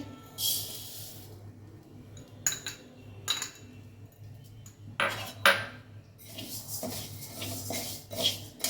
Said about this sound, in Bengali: প্রথমে আমি মুগ ডালটা একটু হালকা ভেজে নিচ্ছি।